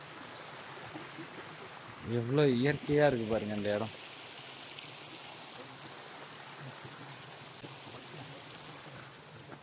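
A stream flows near Moola Kona waterfalls in Andhra Pradesh, a steady outdoor rush of water that carries on throughout, with someone talking briefly over it early on.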